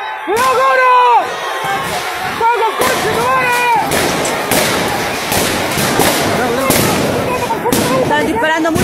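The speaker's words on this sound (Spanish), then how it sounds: "Están disparando muchos perdigones." Police shotguns firing pellets at protesters in the street: sharp, repeated reports cracking over a loud crowd with shouting and voices throughout.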